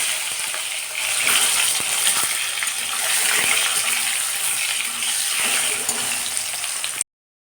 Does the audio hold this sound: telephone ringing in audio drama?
no